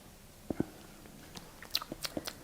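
Someone bites into a small industrial toast with sweet spread, giving two soft crunches followed by a run of quick crisp chewing sounds, close and fairly quiet.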